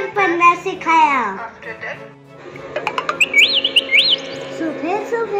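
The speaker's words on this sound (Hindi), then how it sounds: "सुबह सुबह उठकर मैं चिड़ियों की आवाज का मजा लेता हूँ" Bright, whistly bird chirps and rising tweets follow a voice, close and clear, with short repeated calls near the end.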